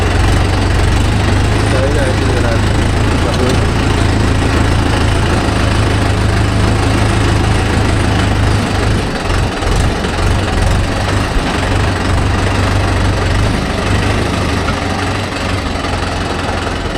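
A Mahindra Yuvo Tech Plus 585 DI 4WD tractor engine runs steadily with a deep, continuous rumble, working a 9-tine cultivator; loud and close throughout.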